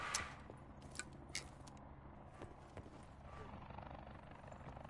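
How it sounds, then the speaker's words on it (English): Helicopter in the Call of Duty: Black Ops 4 video game, a steady rotor drone beneath game sound effects, sharp bursts and brief gunfire-like cracks, while players talk over it. "It's a helicopter."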